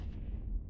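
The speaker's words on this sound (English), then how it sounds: "Launch bomb." A bomb launched from a ship in the space game EVE Online gives a short, low, rumbling burst that carries through the whole brief moment, muffled and heavy, with no talk over it.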